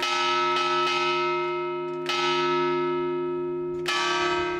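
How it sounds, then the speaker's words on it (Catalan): Church bells of a town church ring out loudly in several overlapping strikes to open a local festival, each long tone fading slowly before the next peal, with no voices. "un bon repic de campanes des de l'església és el tret de sortida"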